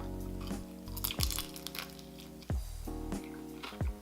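Crunchy baked mac and cheese being bitten and chewed close up, several crisp crunches spaced out over a low background hum.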